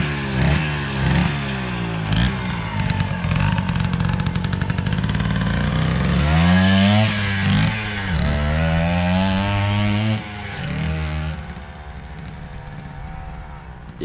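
A Flandria Comet moped's small two-stroke engine runs after starting, buzzing loud and close with revs rising and falling, then settling to a lower idle near the end.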